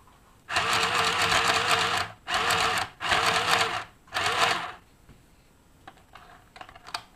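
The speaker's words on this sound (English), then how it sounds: "Stitch again." A sewing machine stitches hair wefts onto lace in four quick, rattling bursts of rapid needle hammering, close and clear, with short pauses and faint handling noises between runs.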